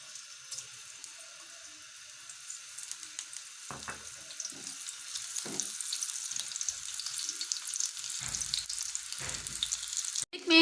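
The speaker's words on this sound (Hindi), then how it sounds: "ऑयल जब थोड़ा सा गर्म हो जाए तो हम इसमें ऐड करेंगे गार्लिक" Chopped garlic fries in hot oil in a pan with a thin, bright hiss that grows louder over time, broken by a few dull knocks and bumps and a sharp clatter near the end.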